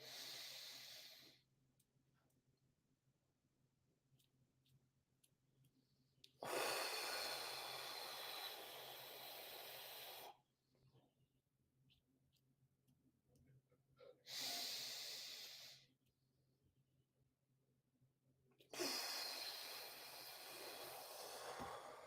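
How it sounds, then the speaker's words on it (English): Slow, controlled breaths follow a timed pattern of inhaling, holding and exhaling, with soft airy rushes separated by long near-silent pauses. The breathing is close and quiet. "So I'm inhaling for 4 seconds. I'm holding for 4 seconds. Then I'm exhaling for 4 seconds."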